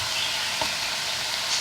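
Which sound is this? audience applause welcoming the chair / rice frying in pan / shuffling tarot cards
rice frying in pan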